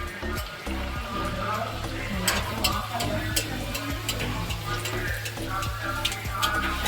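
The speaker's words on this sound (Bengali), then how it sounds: "এখন গরম গরম লুচি ভেজে" Luchi, puffed Bengali flatbread, frying in hot oil, giving a steady sizzle and bubbling that runs the whole time at moderate volume, with speech over it.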